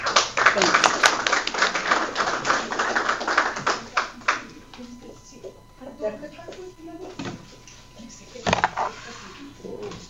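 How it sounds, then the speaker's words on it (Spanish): Applause from an audience at an academic session on violence in northeastern Mexico: a dense burst of clapping that fades into scattered claps with a few knocks and background murmur. "Le damos un aplauso al licenciado Villarreal y a todos."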